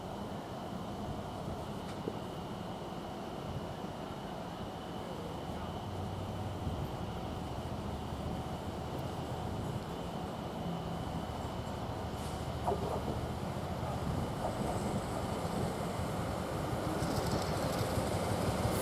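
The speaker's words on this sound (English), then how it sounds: "Now we've got an Elizabeth line train coming in" An Elizabeth line train pulls into Shenfield station, a steady rumble of rails and wagons building gradually over nearly twenty seconds, with a brief squeal or click near the end.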